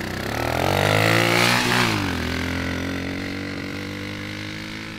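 A 110cc pit bike engine powering a go-kart accelerates in first gear, a loud nearby buzzing drone that climbs in pitch, dips briefly, then holds a strained, slowly rising tone.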